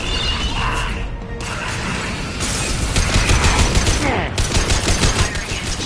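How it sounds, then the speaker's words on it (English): Gunfire from the Mass Effect video game crackles and rattles in rapid bursts of sharp shots, loud and close, mixed with mechanical clatter and impacts during a space battle. "Firing a high impact shot."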